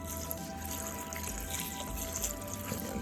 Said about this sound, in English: Distilled water in here until you see the water line.